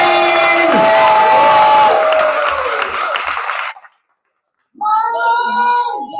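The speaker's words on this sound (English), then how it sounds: "keep clapping as Elaine Hill makes her way to the mic" An open mic crowd claps, whoops and cheers loudly for an arriving poet, then the noise cuts to silence before a voice begins speaking.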